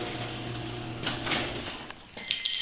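An old, heavy 1 3/4 inch thick wooden garage door on extension springs and large sheave wheels rumbles and scrapes as it moves, swelling midway, then ending in a louder clattering burst.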